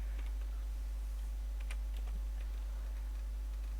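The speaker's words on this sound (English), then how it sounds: "type that here" Light, irregular keypresses on a computer keyboard clicking in short bursts over a steady low hum, fairly quiet and close, with no talk.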